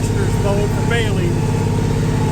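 A tractor engine idling steadily in a hay field during baling, a constant close mechanical drone with no rise or fall, while someone speaks over it.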